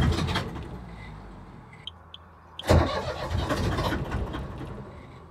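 A diesel engine cranks on its starter in a steady, continuous churn, trying to catch, with a sharper surge partway through before the grinding carries on.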